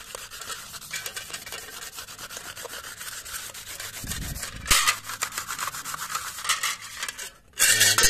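Rhythmic rubbing strokes of 400–500 grit sandpaper scrape across a licence plate, growing louder and more vigorous partway through, with no talking.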